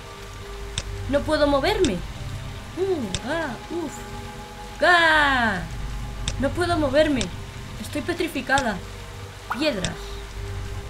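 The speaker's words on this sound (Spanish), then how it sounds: "La lluvia retumba sobre la superficie del agua." Rain drums steadily on the water surface inside a well in the video game The Lion's Song, a constant wash under a woman's anxious spoken lines.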